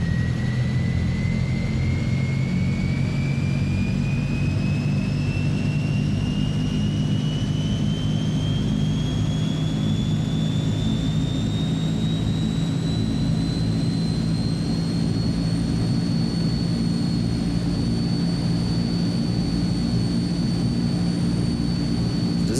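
Simulated Transall C-160 turboprop engines in Microsoft Flight Simulator 2020, a steady loud drone with a deep low hum and a high whine that slowly rises in pitch as the sound changes, continuous with no talking.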